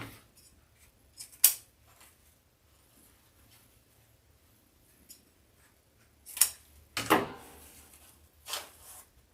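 Scissors make a few quick, close snips while trimming craft pieces for a St. Patrick's Day wreath, scattered over quiet stretches with faint handling noise between them.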